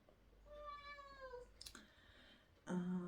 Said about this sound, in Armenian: մեր կատուն այսօր անդադ մլավում է ու չեմ հասկանում ինչ է ուզում